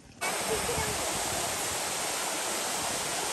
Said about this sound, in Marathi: तुम्ही बघू शकता फ्रेंड किती छान धबधबा आहे.